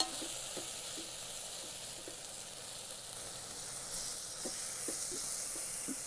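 Coriander powder and turmeric fry in hot oil in an Instant Pot, a steady close sizzle with light stirring taps running the whole time, no voices.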